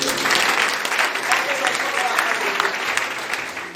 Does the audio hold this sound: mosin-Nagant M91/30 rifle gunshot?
no